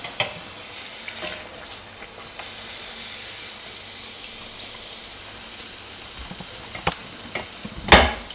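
Eggless achu murukku rose cookies fry in hot oil with a continuous bright sizzling hiss, broken by a few light metallic clinks and taps of the mould near the end.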